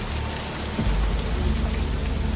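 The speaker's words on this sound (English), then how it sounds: "Yet the rain drowned out the silence in his room." Steady rain falls without pause, a dense wash of drops spread across the whole range, loud and close, with a heavier rumbling low end building partway through and no voices.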